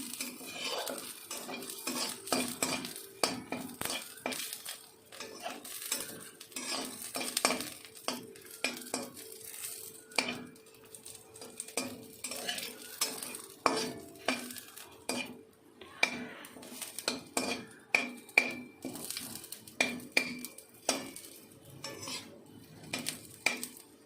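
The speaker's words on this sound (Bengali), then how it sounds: "তিনটে শুকনো লঙ্কা একটু ভেজে নেব।" Three dried red chillies fry in a pan while a spoon scrapes and clinks steadily against the metal, with a soft sizzle beneath the frequent stirring strokes.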